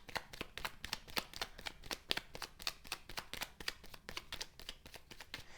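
Cartomancy cards shuffled in a steady, rapid series of sharp flicks and riffles, close up and soft, continuing evenly without any talking.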